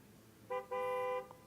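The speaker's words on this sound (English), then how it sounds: "The jeep honks again." A jeep horn in the video game Girls' Frontline gives a short toot followed by a longer sustained honk, clear and fairly close over a low background rumble.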